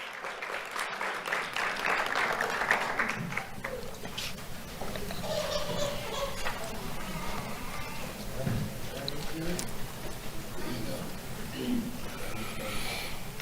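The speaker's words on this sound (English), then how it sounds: "Let's have a round of applause for Emmanuel Poso." Applause rises for Emmanuel Poso at a sheriff's office Do The Right Thing Awards ceremony, loud at first and then fading as voices talk over the room.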